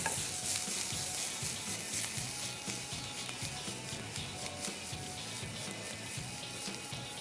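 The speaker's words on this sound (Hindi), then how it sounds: "हल्का सा इसको सॉटे करें।" Roughly chopped ingredients sautéing in a pan, a steady close sizzle with rhythmic scraping and stirring strokes throughout, no voices.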